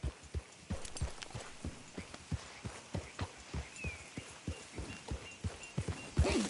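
Horse hooves clip-clop at a steady walking pace in Red Dead Redemption 2, with even, close, moderately loud strikes continuing throughout and no talk over them.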